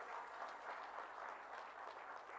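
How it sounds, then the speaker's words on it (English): Round of applause at a live investment deal-signing event, steady distant clapping from the audience, faint and even throughout. "I would request you to kindly give a round of applause to our partners today"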